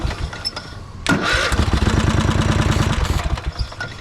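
A Craftsman lawn mower engine cold-starts with the choke on, a sharp pull then a loud, rough sputtering idle that runs unevenly and close up, with no talk.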